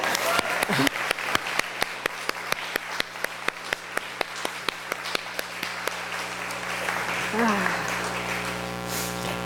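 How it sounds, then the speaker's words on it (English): Crowd applause with a few loud, regular claps standing out at first, then settling into steady clapping with faint voices. "Raucous applause is now in order."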